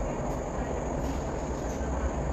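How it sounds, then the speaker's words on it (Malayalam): A passing train makes a broad, steady rumbling roar that stays loud and constant throughout, heard from nearby with no voices over it. "ട്രെയിൻ അല്ലേ?"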